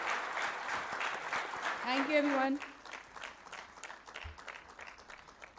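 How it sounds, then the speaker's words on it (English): Audience applause after a street play at a cybersecurity summit, a steady crowd clapping throughout while a voice briefly speaks over it near the middle, the clapping thinning slightly toward the end. "Can we have a huge round of applause for this street play, people, please?"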